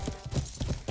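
Horse hooves clip-clop on the ground in a video game, about four quick, distinct steps in a short burst, close and fairly soft with no talk.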